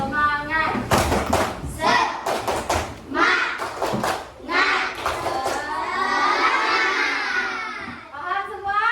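A classroom of children performs the tepuk semangat clapping ice breaker, with rhythmic bursts of group claps mixed with a teacher's voice and kids shouting and chanting along.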